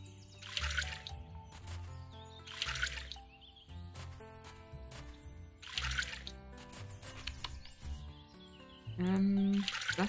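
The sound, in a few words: watering flowers in the video game Littlewood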